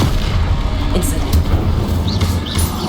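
Incendio fire spell cast in Hogwarts Legacy, a loud, dense burst of fiery rumble and booming blasts that holds steady for a few seconds, with no clear speech.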